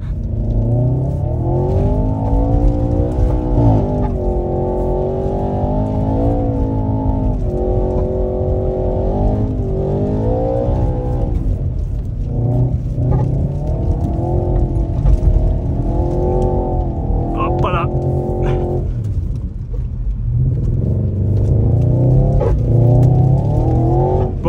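An Audi RS4 engine drones and revs as the car drifts through deep snow, the pitch rising and falling in sweeps over a constant low roar, close and loud with no talking.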